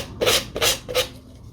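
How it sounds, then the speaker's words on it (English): Sandpaper rubs the edge of a decoupage napkin glued onto an empty Frenchic paint tin, giving three short, close rasping strokes in an even rhythm followed by a quiet pause. "the napkin can really go off easily just with a simple piece of sandpaper."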